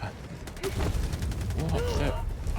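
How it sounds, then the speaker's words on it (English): A sudden explosion goes off in the video game Helldivers 2, heard as a cluster of sharp, booming bursts like rapid gunfire, followed by a dense rumble while someone talks over it. "Just a random explosion in the middle of the world."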